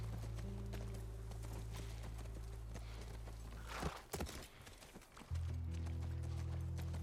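Steady hoof clip-clops from a horse in The Last of Us Part 1 over a constant low drone, briefly interrupted by a rustling burst before the steady sound resumes.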